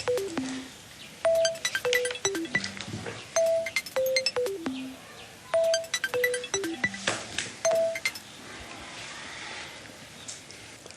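A telephone rings with a repeating melodic electronic tone in steady cycles, clear and fairly close, with short gaps between rings and no one talking over it.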